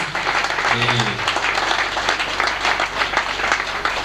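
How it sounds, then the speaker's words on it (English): An audience at an orientation and audition day keeps clapping in a dense, steady roar that fills the moment, with a voice faintly underneath. "Don't stop clapping."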